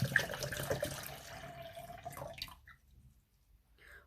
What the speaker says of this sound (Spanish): Ahora vamos a introducir en el vaso precipitado 300 ml de agua.